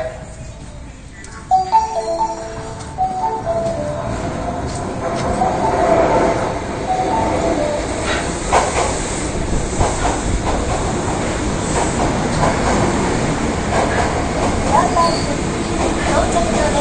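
An Osaka Midosuji Line 10 series subway train rumbles and hisses steadily into Tennoji Station, with a public-address announcement in a calm voice over the rolling noise.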